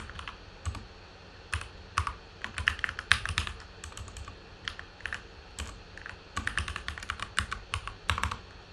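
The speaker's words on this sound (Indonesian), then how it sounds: "Ini ternyata keyboard saya juga sedang bermasalah ya" Keys clatter in irregular bursts on a faulty computer keyboard, a steady run of close, sharp clicks with brief pauses between flurries and no voices.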